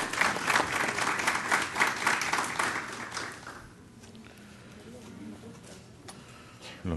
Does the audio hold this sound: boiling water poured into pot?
no